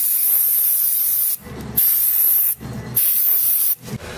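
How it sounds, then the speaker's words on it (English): A can of freezer spray used on a computer repair bench sputters in three loud hissing bursts, each cutting off abruptly with short gaps between, the spray weak and unreliable after months unused. "So my freezer spray is not playing ball."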